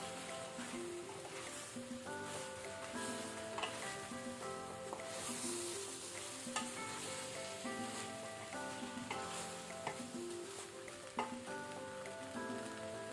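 Breadfruit palya with grated coconut is stirred in a pan on the stove, a soft steady sizzle with light scraping under louder background music.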